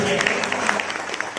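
Audience clapping at a BJMC meeting in Kheda, a steady dense patter of many hands lasting the whole short stretch, fairly loud and close, with no voices over it.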